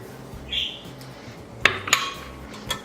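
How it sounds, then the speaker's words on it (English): A yeast and sugar mixture is stirred in a bowl, giving several light clinks and scrapes of a utensil against the dish, with a few sharper taps near the middle and end of the short take. "Give it a simple little stir"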